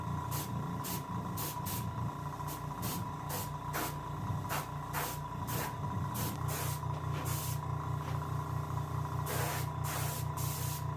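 An angled spray paints a King/Chinook salmon painting. Short hissing spray bursts repeat in a quick, uneven rhythm over a steady low compressor drone, loud and close, with no voices.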